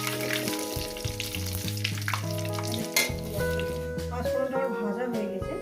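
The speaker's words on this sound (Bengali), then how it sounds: "দিয়ে দেবো 5 ফোড়ন।" Panch phoron and dried red chillies hit hot oil in a pan for a vegetable chorchori, giving a steady soft sizzle that runs beneath prominent background music.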